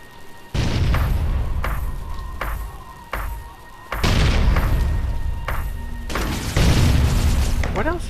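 Gunfire in Fallout: New Vegas, a series of heavy booming shots and thuds spaced through the scene, loud and close, over faint background ambience.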